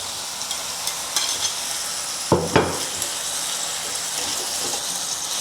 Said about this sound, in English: Return the beef back to the pan.